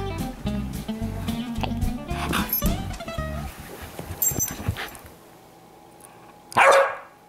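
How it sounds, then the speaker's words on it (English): A Malamute puppy lets out a quick series of high, yappy barks close by, then quiets before one sharp rustle near the end. "Back to barking."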